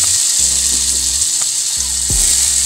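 Tomato frying in a pan with eggs and bread nearby, a steady broadband sizzle running throughout, loud and close, with low hum-like tones from the stove in the background.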